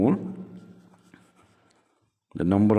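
Faint scratching of an equation being written during a physics lecture on the ideal gas equation, soft and continuous for about a second and a half between stretches of someone speaking.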